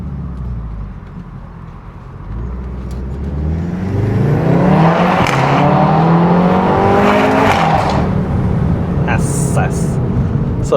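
A VW Golf 7.5 R engine hums at low revs while driving, then accelerates hard into a loud, steadily rising roar that holds at high revs with a few shifts, heard from inside the cabin without talk.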